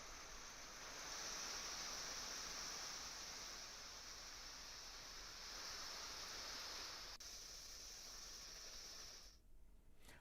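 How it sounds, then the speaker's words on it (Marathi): Heavy monsoon rain falls over Navi Mumbai in the evening as a steady, dense hiss that holds at an even level for about nine seconds and then cuts out abruptly near the end. "नवी मुंबईमध्ये देखील जोरदार पावसाला सुरुवात झालेली आहे"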